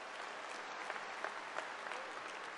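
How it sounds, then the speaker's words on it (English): A commencement audience at Adelphi University applauds in a dense, steady wash of clapping from many hands, fairly distant and soft, continuing evenly throughout. "Let's have another big round of applause for Senator Chuck Schumer"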